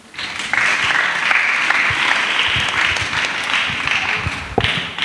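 Applause from a church congregation, a dense, even wash of many hands clapping for several seconds, with scattered louder claps and a few voices underneath.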